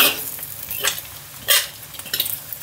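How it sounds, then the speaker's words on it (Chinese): Skin-on pork belly stir-frying in a hot oiled wok, a steady sizzle broken by several sharp scrapes and clanks of the spatula against the pan. "要先把那个带皮五花肉给它煸香"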